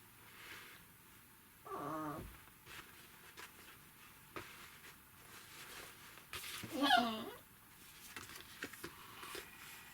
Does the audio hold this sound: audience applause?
no